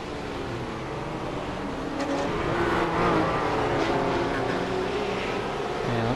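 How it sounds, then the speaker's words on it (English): GT race cars lap the Daytona horseshoe after a spin, their engines a continuous loud drone with rising revs and layered harmonics, passing in the mid-distance with no audible talk. "Another spinning car in the horseshoe."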